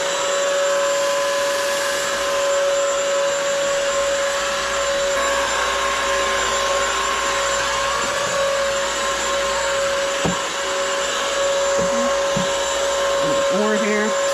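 A Bissell wet/dry floor cleaner runs continuously with a loud, steady high-pitched whine, with a few faint knocks and rattles near the end.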